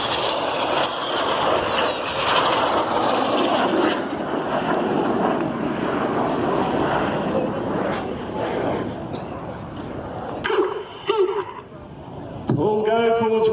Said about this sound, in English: The smoke is trailing as they fly towards each other down the runway.